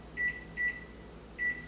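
Three short electronic beeps from an oven timer being set in a home kitchen, clear and close over a steady low hum, with no one talking.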